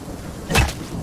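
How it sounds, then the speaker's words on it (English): A brief crack of thunder rises out of a steady hiss of heavy rain in the video game Nightingale, one short, close burst lasting under half a second. "I love a good thunderstorm."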